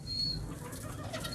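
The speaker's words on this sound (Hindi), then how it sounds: "सॉरी मेरा कबूतर डिस्टर्ब हो रहा है।" A short burst of a pigeon's wings flapping and shuffling nearby, with a faint coo-like murmur over a steady low background hum.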